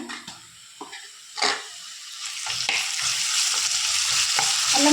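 Ginger paste frying with softened onions in a pan, a sizzle that builds and steadies, broken by scrapes and taps of a stirring spoon, close and fairly loud, without talk.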